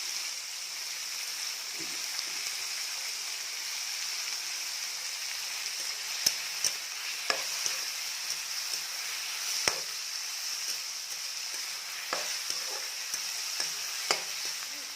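Vegetables for veg chow mein sizzle steadily in a hot pan while occasional sharp clicks and scrapes of a utensil stir them, no talking.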